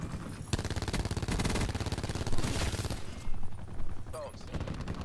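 Enemy players fire at a spawn in a Control match of a shooter game, a dense, nearly unbroken barrage of rapid automatic shots, loud and close, that eases briefly near the end.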